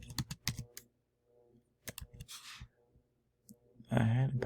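Keyboard typing as a short search term is entered, a few quick clicks between bursts of nearby talk, ending under a louder voice.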